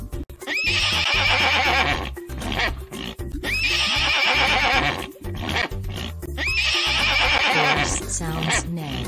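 Horse neighing in a children's animal song, three loud whinnies at regular intervals over a musical backing.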